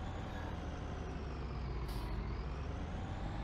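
A heavy vehicle idles and rumbles close by in Farming Simulator 19, with a brief hiss of air brakes midway over the steady engine drone.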